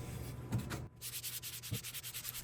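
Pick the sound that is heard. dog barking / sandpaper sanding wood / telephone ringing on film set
sandpaper sanding wood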